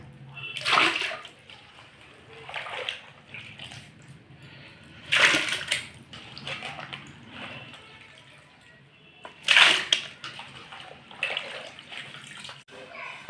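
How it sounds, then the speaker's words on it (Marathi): Sliced potato wafers are tipped into a vessel of water in three distinct splashing pours, each followed by sloshing, with a voice talking quietly between them. "तर आता आपण ह्या दुसऱ्या पाण्यामध्ये घालून घेऊया।"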